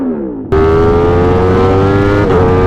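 A motorcycle engine held in first gear, loud and close, climbing in pitch before a sharp jump to a sustained high, strained rev that holds steady with a slight dip near the end, no voices.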